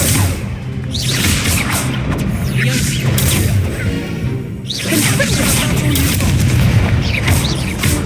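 An Incendio fire spell cast during Hogwarts Legacy combat bursts out in loud booming whooshes and crashing impacts, repeating in heavy waves amid a busy battle with a voice shouting over it.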